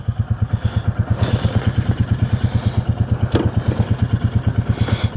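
Royal Enfield Classic 350 single-cylinder engine thumping steadily on a night commute ride, its rapid even low pulses loud and close throughout, with faint wind and road noise above.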